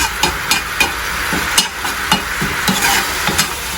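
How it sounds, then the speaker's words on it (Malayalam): Chilli chicken with pepper powder and chilli flakes being stirred in a hot pan, a steady sizzle punctuated by rhythmic clanks of the spoon against the pan roughly every half second; no talking. "1/2 teaspoon of pepper powder and 1 teaspoon of chilli flakes ഇട്ട് കൊടുത്ത് നല്ലോണം ഇളക്കി കൊടുക്കുക"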